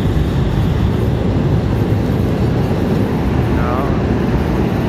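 A tram passes through a state capital's streets, a loud, steady rumble of wheels and motor that fills the whole stretch, very close.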